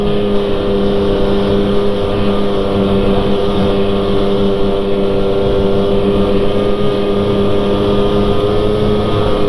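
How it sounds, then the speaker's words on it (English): Strong wind roars over an open outdoor snowmobiling spot, a loud, unbroken broadband rush with a low droning hum underneath, steady throughout with no voices. "This wind is wild."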